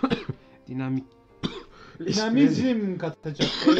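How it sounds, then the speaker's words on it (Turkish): A speaker coughs and clears his throat in the middle of a Turkish talk stream, a few sharp bursts close to the microphone, with his own speech before and after. "Özür diliyorum. Öksürük geldi."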